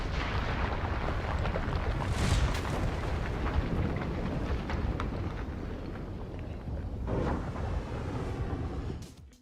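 A massive MOAB bomb detonation, a long deep roaring rumble that rolls on for several seconds with a second surge of blast noise near the end before cutting off.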